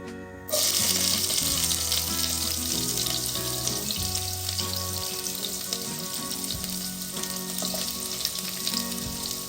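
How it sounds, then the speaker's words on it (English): Onion frying in hot oil for a beef and potato pilau, a steady dense sizzle that starts abruptly and carries on loud and close throughout, with faint clinks of stirring and utensils under it. "we are going to reheat our oil and cook the onion until it's golden brown"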